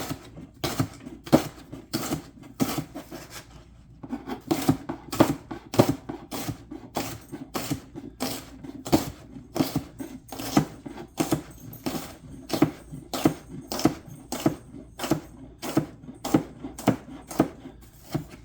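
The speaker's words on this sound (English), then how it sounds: "we just run the knife through it, chopping it up into little pieces." Steady rapid knife chops cut rhubarb on a cutting board, sharp regular taps repeating at a quick rhythm, close by, with a brief pause early on.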